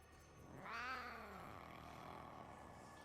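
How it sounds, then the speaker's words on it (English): A pet cat growls once in the distance: a faint, drawn-out, wavering vocal cry that rises and falls over about half a second, while soft Warframe game audio continues in the background. "I forgot my game was still running, so I heard my cat growl in the distance"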